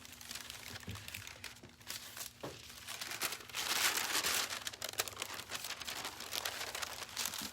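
Parchment paper is handled close by while pressing heat-transfer vinyl onto Christmas tote bags, giving a steady, loud crinkling and rustling that continues throughout.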